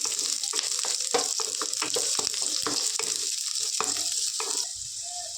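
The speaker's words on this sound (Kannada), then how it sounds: "ಎಣ್ಣೆ ಸ್ವಲ್ಪ ಬಿಸಿ ಆದಮೇಲೆ ಒಂದು ಈರುಳ್ಳಿನ ಹಾಕ್ಕೊಂಡ್ಬಿಡ್ತೀನಿ ಈರುಳ್ಳಿ ಸ್ವಲ್ಪ ಕಲರ್ ಚೇಂಜ್ ಆಗೋವರೆಗೂ ಫ್ರೈ ಆಗಬೇಕು" Onion frying in hot oil in a pan while green chicken gravy is being made, a steady close sizzle with crackling bursts and occasional stirring scrapes, easing slightly toward the end.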